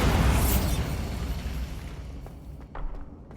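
A Bombarda explosion spell in the video game Hogwarts Legacy bursts loudly at the start, then its rumble slowly fades, and smaller debris clatters and pops follow near the end.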